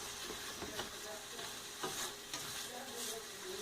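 Fideo noodles brown in a hot pan, sizzling steadily and fairly loudly while being stirred, with soft scraping strokes over the constant frying hiss.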